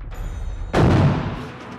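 A single artillery round explodes in a sudden heavy boom with a long rumbling tail, standing alone after a faint high whine.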